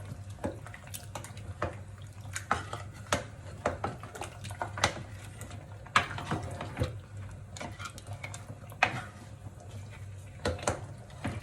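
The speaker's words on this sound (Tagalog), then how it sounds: "Haluin lang natin siya" Beef salona with chili powder being stirred in a cooking pot: irregular clinks and scrapes of a utensil against metal over a wet, bubbling simmer, close and moderately quiet, with no one talking.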